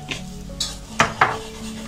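A metal spoon clinks and scrapes against a pan while spices are stirred into a masala over a very low flame, giving a few sharp knocks over faint background hiss.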